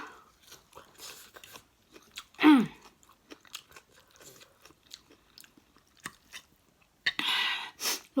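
Chewing while eating fish with khanom jeen rice noodles and fresh vegetables: close, soft, irregular mouth sounds with one louder crunchy bite, then brief chewing noises near the end.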